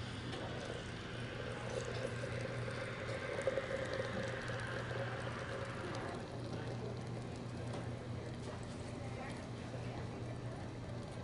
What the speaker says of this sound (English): I'm going to add 12 ounces of hot water.